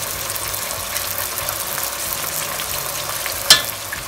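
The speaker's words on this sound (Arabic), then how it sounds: "كنبدا كنحرك اولا كنخلط هذا اللحم مع البصل مع التوابل" Meat frying in a pot with onion, ginger, garlic and spices for biryani, a steady close sizzle under stirring, with one sharp clack of a utensil near the end.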